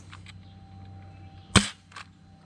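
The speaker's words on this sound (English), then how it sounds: "I am shooting worker darts, by the way" A modified Nerf blaster with metal internals fires a Worker dart in one sharp, loud snap, then a softer tap follows, with a quiet hum in the room around it.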